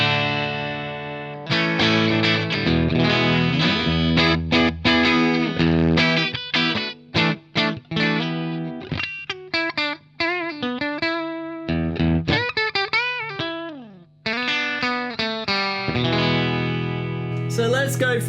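A heavily distorted electric guitar, apparently a Telecaster-style guitar into a Vox amp, runs through a Valeton Loft DS-10 distortion pedal. Loud, saturated chords and sustained bends alternate with quick stops and brief gaps.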